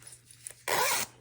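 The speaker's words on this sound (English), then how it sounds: "zip it up and down" A nylon coil zipper slider pulled along its chain, a few faint scratchy rasps and then one loud, close, sustained zipping stroke lasting under half a second.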